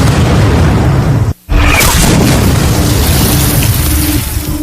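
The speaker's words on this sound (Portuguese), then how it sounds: "era barrado a tiros de canhão" Loud cannon fire from a reenactment of Pickett's Charge at Gettysburg, 1863: a booming shot, a brief hush, then another heavy blast rolling into a long rumble.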